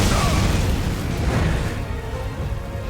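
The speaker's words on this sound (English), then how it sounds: "He's got no warm up on that bloody explosion of his." A blood flame explosion from the boss Mohg in the video game Elden Ring bursts as a loud, dense roaring boom that fills the whole stretch and slowly tapers, with no pause or warm-up.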